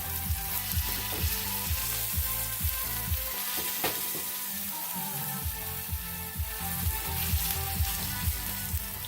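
Sirloin steak seasoned with salt, pepper and minced garlic sears in a hot pan, giving a loud, steady close sizzle over a rhythmic low thumping beat.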